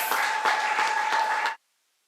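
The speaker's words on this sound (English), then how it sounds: "let us all give each participant a big round of applause." Audience applause at a debate competition grand finale: a dense burst of clapping for about a second and a half, then an abrupt cut to silence.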